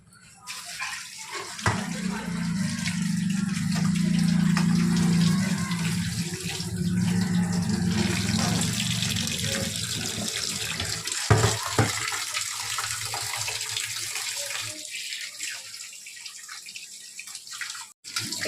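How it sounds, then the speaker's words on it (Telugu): Tap water running over country chicken being washed for curry, a steady close gushing flow with splashes and occasional drips that tapers off toward the end. "చికెన్ కడిగేస్తాను."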